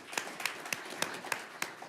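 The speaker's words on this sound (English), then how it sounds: "You can clap for her." At a school board meeting, an audience claps for an honored staff member: six evenly spaced, crisp claps in a steady rhythm, fairly faint in a quiet room, with no speech.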